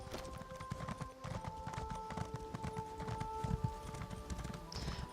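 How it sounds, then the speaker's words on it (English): Horse hooves clip-clop in a steady rhythmic gallop while riding in The Elder Scrolls Online, with faint game ambience and quiet music underneath. "I'll get my horse out and start taking a ride."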